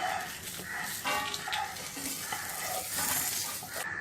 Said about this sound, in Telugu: ఇవి కొంచెం వేగిన తర్వాత పచ్చిమిరపకాయ ముక్కలను కూడా వేసుకుని వేయించుకోవాలి.